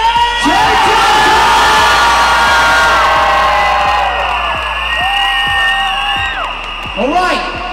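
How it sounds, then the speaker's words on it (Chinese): A large arena concert crowd screams and cheers loudly in a dense, sustained roar that swells and slowly fades, with high shrieks and whoops rising above it. "我们要听全场的尖叫声！"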